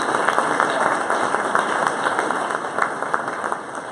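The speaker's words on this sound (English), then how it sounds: "I'd like to give them a big round of applause." An audience at a live club event claps in a dense burst of applause, steady and fairly loud throughout, with scattered voices mixed in.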